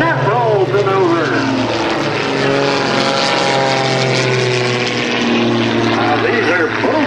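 Home-built propeller aerobatic airplanes at a lakeside airshow, a loud droning engine roar with rising and falling pitch as they maneuver overhead, an announcer talking throughout.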